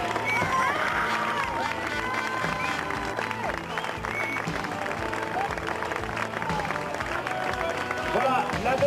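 A crowd at a 1996 international grass-track race meeting in Marmande applauds the riders, dense continuous clapping and cheering mixed with voices and a commentator talking over it.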